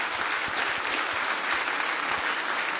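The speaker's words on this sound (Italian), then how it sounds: "Vorrei un applauso per Michele che mi raggiunge qua vicino." An audience breaks into brisk, dense applause for a choir director at a solidarity concert in Tonara, Sardinia, many hands clapping together at full volume throughout.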